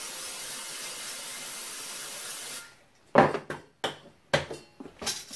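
A steady hiss of Pam cooking spray onto a hot pan lasts a couple of seconds, then stops, followed by several short scraping and knocking sounds close by.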